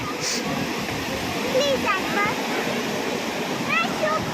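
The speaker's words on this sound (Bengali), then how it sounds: "এই যে আজকে কি সুন্দর ঢেউ আছে দেখো" Sea waves churning steadily at a Mumbai shoreline, a continuous broad rush of surf with wind, loud and constant, while faint bird calls chirp briefly through the roar.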